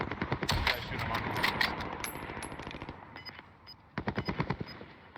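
Gunfire in Call of Duty Warzone: close bursts of rapid automatic fire, a pause, then another quick burst, with faint game effects and occasional talk.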